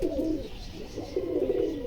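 A flock of pigeons coos close by in a repeated, low rolling burble that pulses steadily with no talk.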